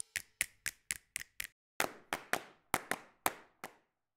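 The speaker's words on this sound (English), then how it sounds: "we get a snap slash clap" A snap/clap drum sample from a Reason drum kit plays as a dry, sharp series of isolated hits, six quick even strikes followed by a slower run of seven with a longer, roomier decay, alone with no voices.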